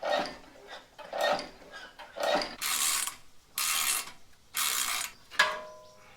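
A ratchet backs out screws on an MTD-style snowblower, with repeated bursts of rapid clicking separated by short pauses, close and fairly loud, with no talking.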